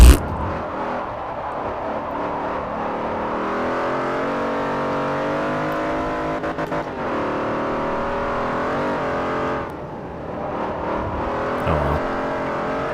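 Race car in Forza Motorsport 4 speeding downhill at Camino Viejo, its engine holding a steady high rev while the car slides through corners, with brief dips and tire noise under the continuous loud drone.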